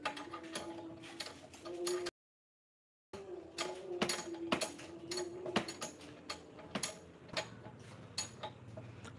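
Ratchet wrench tightening a 14 mm bolt on the rear shock absorber of a Honda Beat scooter, a rapid run of close, sharp metallic clicks in bursts with a brief pause, no talking.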